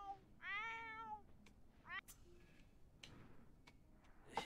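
A cat meows loudly twice close by, a long drawn-out meow and then a shorter one, followed by quiet clicks and soft room noise.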